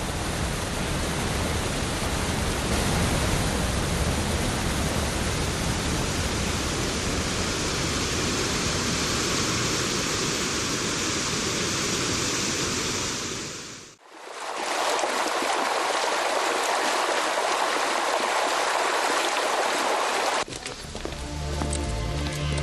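Roaring waterfall of the Velo de Novia falls on Madeira, a steady broadband rush of falling water that holds constant for about fourteen seconds, cuts out briefly, then resumes at similar strength.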